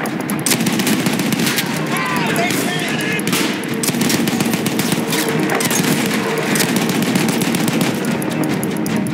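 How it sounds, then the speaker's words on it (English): Sustained suppressing gunfire in Battlefield 1, a World War I trench battle, with dense rapid machine-gun bursts and scattered rifle shots rattling continuously at loud, steady level, distant booms mixed in and faint voices shouting underneath. "Continue suppressing fire."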